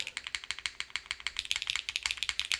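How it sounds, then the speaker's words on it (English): Rapid, close keystrokes clack on a custom Suisei mechanical keyboard, a bright, even run of crisp clicks typed quickly and heard alone. "Seafoam, do you want to try, do you feel like the Spacebar is too high pitch"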